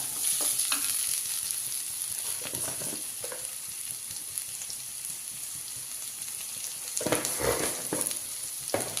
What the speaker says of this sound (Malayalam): സബോള നന്നായി ഒന്ന് വഴറ്റിരിക്കട്ടെ.